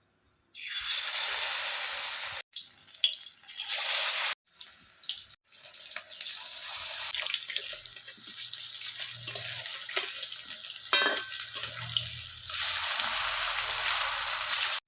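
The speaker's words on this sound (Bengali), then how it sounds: "তেলটা গরম হয়ে গেছে, এবার পিটালি দিয়ে এক এক করে ভেজে নামিয়ে নেব।" Pieces of rice paste (pitali) frying in hot oil for a Bengali stuffed kakrol dish, a loud steady hiss and crackle that runs almost continuously, dropping out briefly a few times before resuming.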